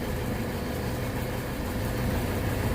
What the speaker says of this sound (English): the auger, the vertical screw that is in the Vector, is mixing this up right now